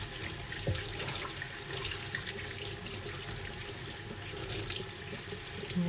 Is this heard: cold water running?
yes